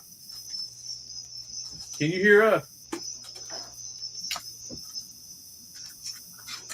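A steady high-pitched cricket chirp trills continuously in the background while someone briefly speaks over it.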